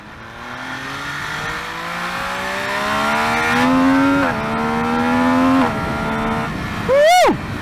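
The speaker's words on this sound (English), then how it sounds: "The sound of the quick shifter is just maddening." A motorcycle engine revs loudly and climbs through gears with quick, crisp quick-shifter shifts, ending in a sharp high-pitched rev burst.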